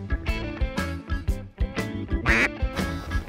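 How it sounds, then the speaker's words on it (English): Several loud, harsh duck quacks come in quick irregular bursts, close by, with no talking. "There's birds around us now."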